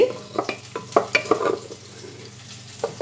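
Tomatoes frying in a pan for dhaba-style dal: a soft, continuous sizzle broken by repeated scraping and stirring strokes, close and moderate in level, with no talk.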